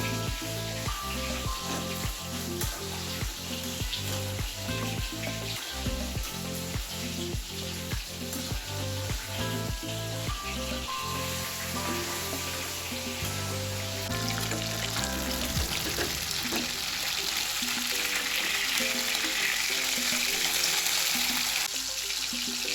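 Pomfret fish fries in oil with a steady hiss that swells louder toward the end, while rhythmic background music plays over the first half.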